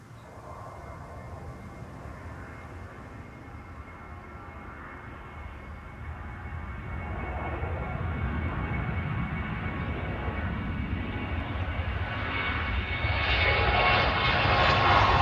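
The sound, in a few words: Georgian Airways Boeing 737 departing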